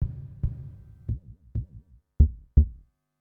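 Electronic drum preset hits in Superior Drummer 3: deep, boomy synthetic kicks and toms struck one at a time in an uneven sequence of about eight hits, each with a short decaying tail, no voices.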